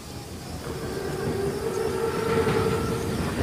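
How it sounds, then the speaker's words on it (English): A massive armored Panzerzug train rolls by in the World War II video game Call of Duty WW2, giving a loud, steady rumble with a rising metallic whine and no voices. "Train's right on time. Biggest train I've ever seen."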